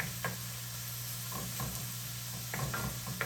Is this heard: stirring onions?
yes